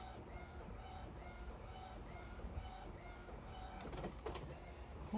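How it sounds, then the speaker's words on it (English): A printer runs steadily while printing an image for a Cricut cutting project, its mechanism sliding back and forth in a repeating rhythm with a few brief clicks and shuffles near the end. "So there it is coming out of the printer"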